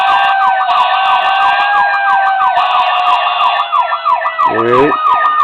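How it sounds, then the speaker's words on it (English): Electronic siren on a custom 1:24 scale Matchbox KME Ford F-450 pumper fire truck model, loud and continuous, wailing up and down in steady sweeps, with a brief voice and a low horn-like blast near the end. "There's the electronic siren faded in, and then also the air horn."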